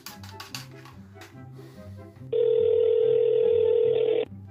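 A telephone being dialed, a few short clicks and tones followed by a loud, steady electronic tone lasting about two seconds, close, with faint background music and no talk.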